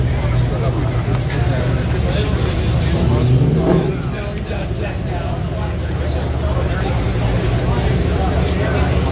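A convertible Camaro with an LS3 engine rolls past at an outdoor classic car show, its engine rumbling loud and close with a brief rise in revs, under a steady hubbub of crowd chatter.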